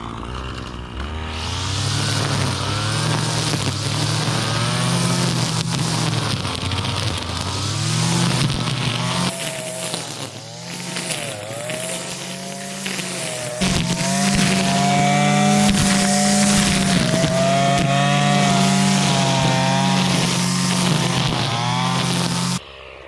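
Lawn mower cutting thick overgrown grass, a loud engine whine that bogs down and recovers in shifting pitch as it chews through the dense growth, continuous and close with no talk.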